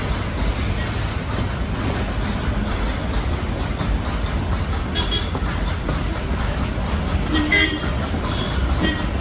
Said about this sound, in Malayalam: റോഡിൽ തന്നെ ഈ ട്രെയിൻ പോകുന്നതൊക്കെ നല്ല രീതിയിൽ തന്നെ ഷൂട്ട് ചെയ്യാം